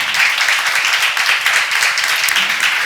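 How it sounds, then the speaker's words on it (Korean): A church congregation at a seminar claps steadily, a dense, loud and even burst of applause that carries through the whole short stretch. "박수를 하세요"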